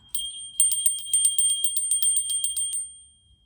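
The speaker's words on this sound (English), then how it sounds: "I feel like I should ring the bell" A small bell rung rapidly, a bright metallic trill of repeated strikes lasting a couple of seconds before ringing out and fading, close and alone.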